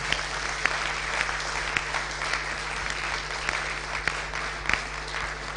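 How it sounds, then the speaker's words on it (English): A room of business executives at a breakfast meeting applauds a speaker, continuous moderate clapping with a few sharper individual claps standing out, over a low electrical hum. "A round of applause for Mr. Yao Nsako."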